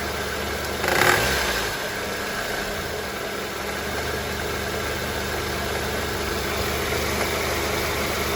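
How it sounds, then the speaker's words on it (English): Honda CR-V engine running with a brief rev near the start, then a steady idle hum, checked for tensioner or belt noise, close and continuous with no talk. "All right, rev it. Rev it again."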